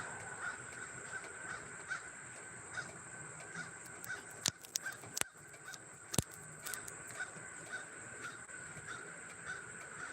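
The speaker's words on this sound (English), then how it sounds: "I hear one of my crow buddies." A crow caws outside an open window, a repeated call ringing out at a steady pace from some distance, with a constant high electrical hum and a few sharp clicks indoors.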